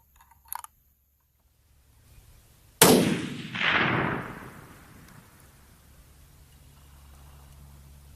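A Remington 783 budget rifle in .308 Win fires one sharp, loud shot after near silence and a faint click, followed by a rolling boom and echo that fade slowly across open ground, the target being 1,520 yards away.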